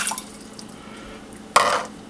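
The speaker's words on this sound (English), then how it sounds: "we're going to put 1 cup of water into our pan" A cup of water splashes into a cooking pan on a home stove, a brief bright pour burst near the end after a quieter stretch of soft kitchen noise.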